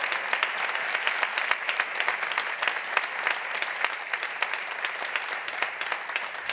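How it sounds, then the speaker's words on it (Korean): Church congregation applauding to welcome newly baptized members at a baptism and confirmation service; continuous, moderately soft clapping from many people, steady throughout without talk. "교우 여러분은 진심으로 사랑으로 크게 박수로 환영하시기를 바랍니다"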